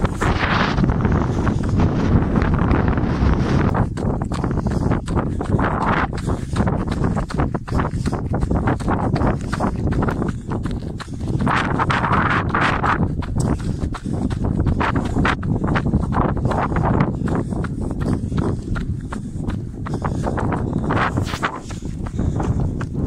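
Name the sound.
wind blowing at the seaside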